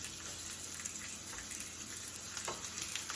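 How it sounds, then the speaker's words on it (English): Mushrooms, onion and other vegetables sizzle in olive oil on a hot griddle, a steady bright hiss with occasional louder crackles, close and continuous, without speech. "Can you guys hear the sizzle?"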